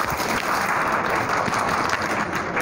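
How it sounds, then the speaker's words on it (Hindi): Enthusiastic bank exam candidates clap at a coaching branch celebration, a dense, loud, continuous round of applause from a crowd in a room. "ये तालियाँ गूंज रही हैं जो दिखा रही हैं कि कैंडिडेट कितने उत्साहित हैं"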